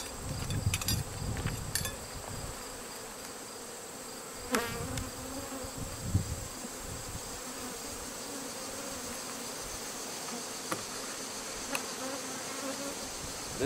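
A honey bee swarm buzzes steadily while being hived from a trapped bait-hive swarm into a Langstroth hive, a dense continuous drone with brief louder passes of individual bees flying close by.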